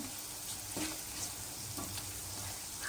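Masala for prawn mango curry sautéing in a pan: a faint, steady sizzle with soft scraping stirs at intervals, close but quiet.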